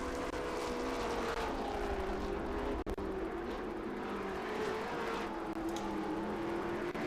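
A Make-A-Wish Foundation race car at the Mid-Ohio track drones steadily at a distance, a sustained engine hum that holds at a constant pitch with faint shifts.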